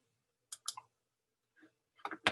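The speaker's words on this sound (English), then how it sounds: "I can remove these frames by control clicking" Sharp computer mouse clicks, made while deleting animation frames, arrive as a quick cluster of two or three, then a lone soft click, then another rapid burst near the end. They are close, crisp and isolated in a quiet room.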